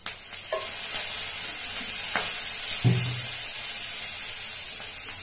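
Oil sizzles steadily in a hot pan where chilies are being roasted for a peanut, cumin, tamarind, garlic and tomato preparation, with a few soft clinks and stirring scrapes over the continuous frying hiss, close and with no talk.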